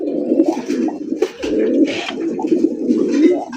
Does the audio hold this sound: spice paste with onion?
no